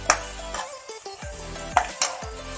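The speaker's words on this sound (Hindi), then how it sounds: "हल्का सा इसको जिंजर गार्लिक को इसके साथ थोड़ा सा 1 से 2 मिनट के लिए मैं फ्राई कर दूंगी" Ginger garlic paste frying with onions in a pan, a soft steady sizzle broken by a few sharp clinks and scrapes of a spoon against the metal.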